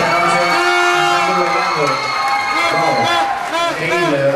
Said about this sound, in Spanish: yo pido un aplauso para ella doblemente por lo que hiciste esta noche